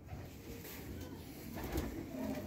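Pigeons, including a Teddy cross pigeon, cooing faintly with soft low murmurs in a quiet setting among light background noise.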